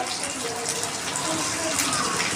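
A spice paste fries in a pan with a loud, dense, continuous sizzle, close and steady throughout, like water hitting hot oil.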